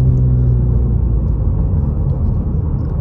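A car drives along a mountain road near Snow Summit, giving a steady, loud low rumble of engine and road noise that continues throughout with no talk.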